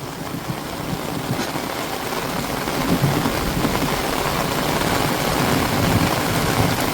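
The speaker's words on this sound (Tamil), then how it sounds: "பாருங்க எவ்வளவு மழையும் இடியும்" Dense, steady rain pours down in a constant loud hiss with a low rumbling underneath, continuous throughout without pauses.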